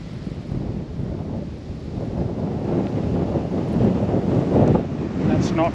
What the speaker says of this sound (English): Wind got us and blew us right off him.